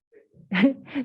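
A single short sneeze erupts once, close by, in an otherwise quiet room during a school committee interview, preceded by a faint breath.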